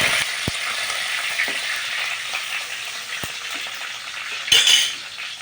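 Curry leaves drop into hot oil while brinjal curry cooks, giving a steady bright sizzle with a few sharp clinks of a utensil against the pan and a louder spitting burst near the end.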